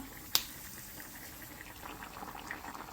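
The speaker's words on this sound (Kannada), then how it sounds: "ಇಲ್ಲಿ ಕುದೀತಾ ಇದೆ." Majjige huli with chayote squash bubbles and gurgles softly at a low simmer in a pot, with one sharp click near the start and a faint pop later.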